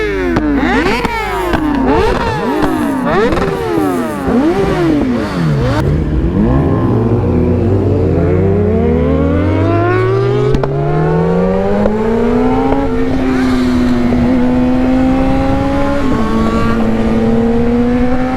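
A Yamaha FZ1 motorcycle engine revs hard under throttle, pitch sweeping up and down repeatedly before settling into a steady higher drone, loud and close throughout, with no talk.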